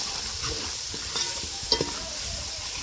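Masala spices frying and being stirred in hot oil for a spicy village-style mutton cooked on a wood-fired chulha, a soft steady sizzle with faint scraping stirs and a couple of brief clinks.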